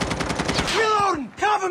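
Rapid automatic gunfire in Call of Duty Mobile, loud and close, with a fast rattling burst followed by a couple of shorter shots, mixed with bright game effects.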